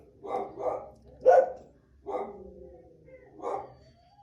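Several dogs bark in short bursts, about five loud barks spread over a few seconds with a whimpering tail between them, fairly close and standing out over quiet room tone.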